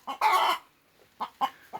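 A nearby chicken gives a short burst of loud, squawking clucks, then three brief clucks follow after a pause, with no talk.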